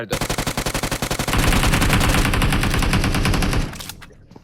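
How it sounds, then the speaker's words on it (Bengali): Rapid automatic gunfire in a video game: a quick rhythmic string of loud close shots that merges into a dense, sustained burst before cutting off. "এখন ফায়ার দাও"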